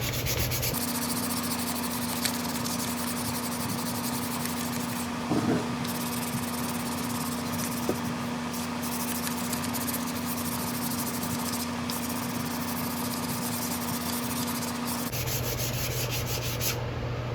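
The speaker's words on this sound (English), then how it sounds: "This 150 grit is going to be finer and it will knock off the surface" A hatchet head being rubbed with 150 grit sandpaper, a continuous scratchy abrasive sound under a steady hum that runs nearly the whole time before cutting off near the end, with no talk.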